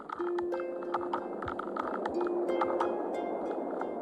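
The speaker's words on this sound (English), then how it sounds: "This is the sound of their munching teeth, amplified by their shells, which are natural underwater loudspeakers." Kina sea urchins chew kelp with their teeth underwater, heard as a rapid, irregular crackle of sharp clicks and scrapes over a low steady hum, close and fairly faint, with no voices.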